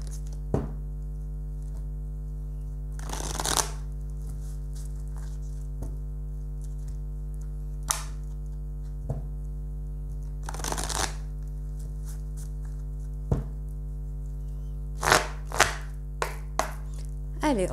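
Oracle cards of the Oracle secret d'Émeraude deck are shuffled in scattered short riffling bursts over a steady low electrical hum, close and fairly soft.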